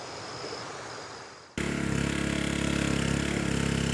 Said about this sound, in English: trying to pump water out of the basement faster than it flows back in.